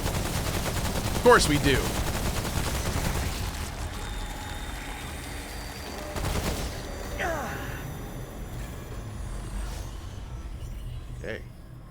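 Gunshots in the video game Remnant: From the Ashes: a handful of sharp, separate shots spread over a constant noisy game background, with people talking through the whole stretch.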